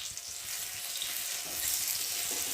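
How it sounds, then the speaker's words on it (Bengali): Chopped garlic and onion frying in oil, a steady close hiss and sizzle with faint crackle throughout, no voices. "রসুন পেঁয়াজটা একটু ভালো করে ভেজে নেবো"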